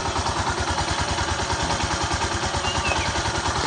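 Honda XRM 125 motorcycle engine idling after a piston and ring replacement, a steady, close, even putter with a rapid regular pulse and light mechanical clatter throughout.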